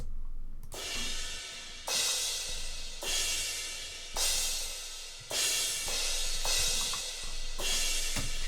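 Sampled hi-hats and cymbals from Superior Drummer 2 crash and hiss in bright repeated bursts roughly every second, washing over a low electronic bed.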